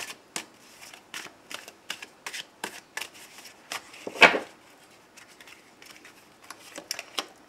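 Tarot cards are shuffled for a reading in a quiet room: a steady run of soft, close riffles and flicks with one sharper, louder snap partway through.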